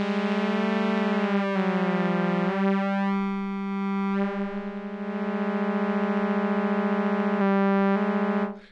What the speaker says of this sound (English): with the second oscillator on, you can turn on mono if you want, which will sum the two together and produce a mono signal.